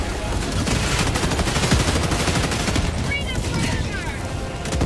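Dense, continuous gunfire in a multiplayer shooter video game, rapid overlapping shots forming a loud unbroken barrage throughout, with a few faint mechanical chirps toward the end.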